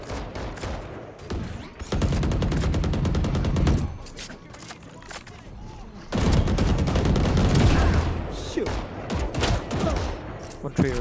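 Gunfire in VALORANT, with loud, close, sustained bursts of rapid shots in two long stretches separated by a quieter pause, layered with game effects and chatter.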